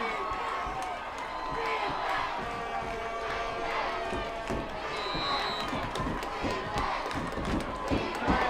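A high school football crowd at the San Dimas versus Bonita Smudgepot game cheers and yells steadily, a dense roar of many voices with shouts rising over it and an announcer talking over the noise.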